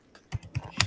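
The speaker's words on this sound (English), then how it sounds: "Are you finished typing this?" Three quick keystrokes tap on a computer keyboard in a classroom, short crisp clicks close by in a quiet room.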